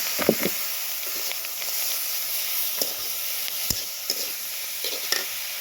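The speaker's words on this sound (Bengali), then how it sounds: "ভালো করে আমার ভাজা হয়ে গেছে এখন দিয়ে দিব এই যে সিদ্ধ করা সবজি" Boiled vegetables go into a pan of frying egg, with a steady soft sizzle and a few sharp scrapes and taps of stirring, close and fairly quiet, no voices.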